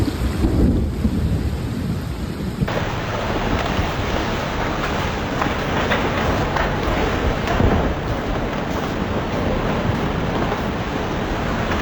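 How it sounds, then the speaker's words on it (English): Heavy rain in a thunderstorm over Kyushu, Japan, during severe flooding: a loud, dense, continuous roar of downpour with deep rumbling thunder beneath it, and no voices. "heavy rain caused severe flooding on the island of Kyushu, Japan"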